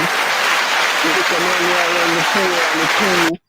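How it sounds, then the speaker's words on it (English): Crowd applause for Jamaican athletes Shelly, Sharika and Ilian, a continuous wash of clapping with a voice talking over it, cutting off abruptly near the end. "Round of applause, yeah."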